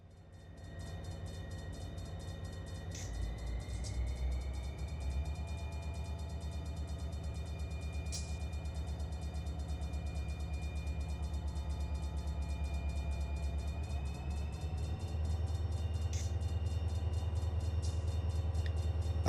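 A switcher locomotive in the Run 8 Train Simulator game on a Fresno-to-Modesto California local job rumbles along steadily, with a low diesel drone that swells near the end, faint clanks, and brief high tones scattered throughout.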